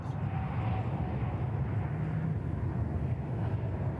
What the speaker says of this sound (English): Qantas just dropping in there on runway right.